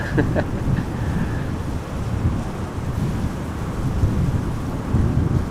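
A deep, steady rumble with gusty wind noise roaring across the microphone from aircraft wake turbulence at Amsterdam Schiphol Airport, broad and continuous with no voices.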